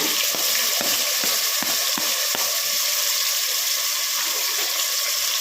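Sliced onion and dried red chillies frying in a pan for sambar rice, a loud, dense, continuous sizzle with a few sharp clicks and pops early on.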